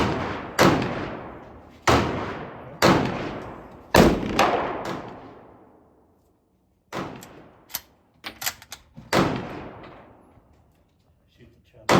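Ruger American Ranch rifle firing on a range during an accuracy test: about six loud, sharp gunshots with echoing decay, spaced irregularly a second or two apart, with faint talk and clicks between shots.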